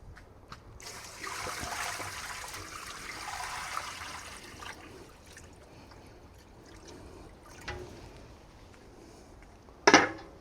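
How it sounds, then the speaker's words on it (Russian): Cold water poured into a cast-iron kazan cauldron outdoors while preparing Kalmyk lamb: a rushing, splashing pour for several seconds that tapers to a faint trickle, ending with a sharp metallic clank. "Заливаем холодной водой."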